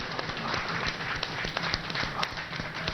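A crowd applauds the flag-off of India's 100th Kisan Rail farmers' train, producing steady, dense clapping that is fairly faint and distant and runs throughout with no talk over it.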